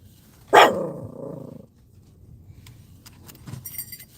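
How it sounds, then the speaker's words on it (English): A single sharp, loud dog bark close by, then quiet with some faint jingling and rustling. "That's him barking at Keffa walking by"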